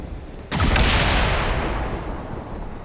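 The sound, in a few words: gunfire shooting a target in XCOM 2 video game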